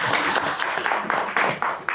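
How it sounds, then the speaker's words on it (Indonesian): Scattered clapping at a small gathering, close and fairly loud, in a quick uneven rhythm of sharp claps over about two seconds. "Yang tepuk tangan cuma satu sih."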